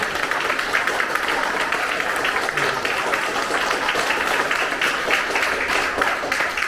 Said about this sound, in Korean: 다시 한번 큰 박수를 드리면서 감사합니다